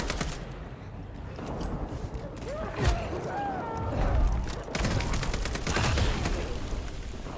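Steady bursts of automatic gunfire in Vampire: The Masquerade Bloodlines 2, mid-distance and fairly loud, rattling on with brief breaks amid other game noise.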